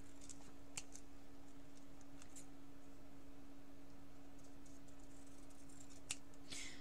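Scissors trim a folded paper envelope used for spreading death's head sphinx moths. A few quiet, crisp snips sound at intervals against near silence and a low steady hum.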